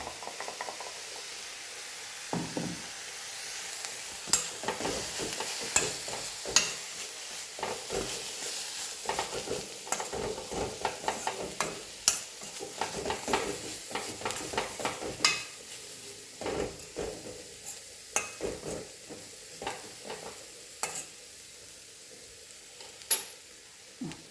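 Carrot thoran with ground coconut paste stirs in a pan over a quiet sizzle, with intermittent scraping and clinks of a spoon against metal, fairly soft and without talk.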